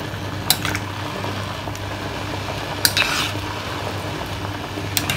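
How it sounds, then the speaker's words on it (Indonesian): A few scattered utensil clinks and scrapes in a pot of sayur asam, a tamarind vegetable soup, sound over a steady low simmer with no talk. "Aduk sebentar."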